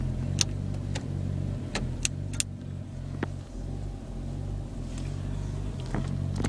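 A 1988 Chevrolet Nova hatchback idles with a steady low engine hum and a faint rumble, the motor running evenly, with a few short clicks over it and no talk.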